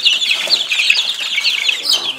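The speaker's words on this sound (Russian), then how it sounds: "Курочка." A hen in a farmyard poultry pen gives rapid high, chattering clucks, close and fairly loud, in a brief continuous burst with no talk.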